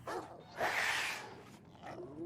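Dogs in the PC horror game Alone in the Dark: The New Nightmare give a few short, rough barks and growling yelps at moderate volume, with one longer snarl in the middle.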